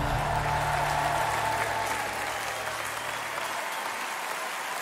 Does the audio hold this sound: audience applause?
yes